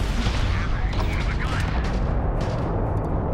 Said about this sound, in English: Those new cannons are doing a wonder.